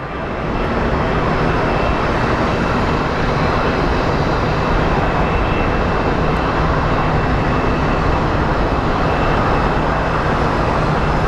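Mesa Airlines airplane at Sky Harbor Airport, a loud, steady jet engine roar that holds without a break the whole time, broad and close, with no talking.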